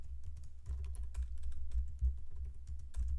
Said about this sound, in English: And here we can just simply type something like boom.